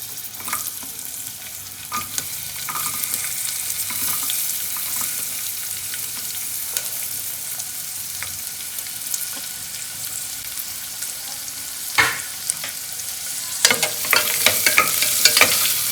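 Chopped onions with cashews fry in a pan of oil for a homemade ghee rice dish, giving a steady close sizzle with scattered stirring clatters and scrapes that grow busier toward the end; no voices.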